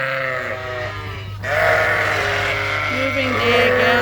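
A group of sheep and lambs bleating while being moved on a farm, several overlapping calls rising louder midway, fairly close.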